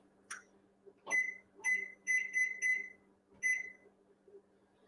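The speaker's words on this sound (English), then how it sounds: "I'm going to set the timer on the microwave" A microwave oven's timer is being set in a home kitchen: a series of short, clear electronic beeps, some single and some in quick pairs, spaced irregularly over a few seconds against a faint low hum.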